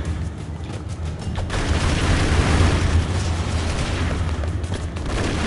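Bomb explosion in the retro action game Broforce, a loud, sustained roaring blast with crackling bursts and popping debris that swells in the middle and slowly fades.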